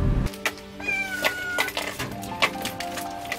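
A mother cat meows several times, close and clear, in a village setting, with short pauses between the calls and light background noise.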